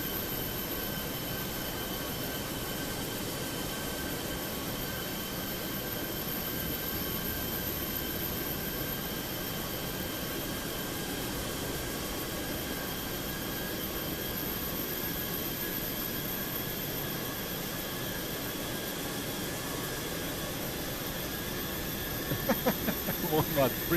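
SAS Airbus A320 jet engines spooling up for takeoff in Microsoft Flight Simulator 2024, a steady broadband roar with a sustained high whine and tonal hum, holding even throughout, with a few faint clicks near the end.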